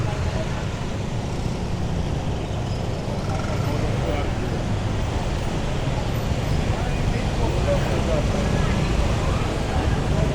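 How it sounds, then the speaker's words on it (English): Steady street traffic roars throughout, a dense broadband rumble of passing vehicles with engine drone, fairly close and continuous, with faint voices mixed in. "There's motorbikes on the right."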